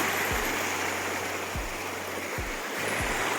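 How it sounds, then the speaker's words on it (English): A small creek runs beside a hiking trail in Banff, giving a steady, continuous rush of flowing water with no voices over it. "We're right beside this lovely little creek beside us."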